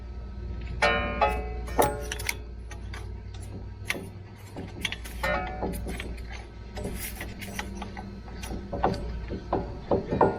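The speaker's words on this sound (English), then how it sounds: "All this is doing is pushing the piston back in the caliper." A brake caliper piston on a 2014 Ram 1500 is pushed back into its bore during a front brake pad job, giving quiet, close mechanical clicks, creaks and metal ticks in an irregular sequence, with no talking.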